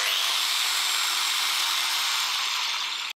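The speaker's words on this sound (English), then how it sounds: "If you switch the grinder on and you're using it" A DEWALT DWE4246 115mm 1200W variable speed angle grinder runs steadily with a loud, close, high-pitched broadband whine that holds throughout, then cuts out abruptly at the very end.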